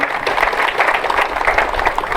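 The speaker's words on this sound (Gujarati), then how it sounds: "બધાને કહું વિનંતી કે આને તાળીથી વધાવો." Audience at a community assembly meeting applauding a man asked to stand, dense loud clapping from a crowd filling the room in a continuous even wash.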